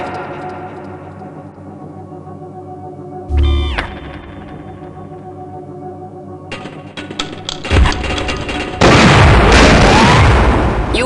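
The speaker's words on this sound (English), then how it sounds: "set the payload to cluster bomb and throw it at the next hologram target" Cluster bomb blasts in the shooter game Half-Life: Gunman Chronicles: a low thump, then a harsh ringing pop, followed later by a loud, sustained roar of overlapping bursts that dominates the end.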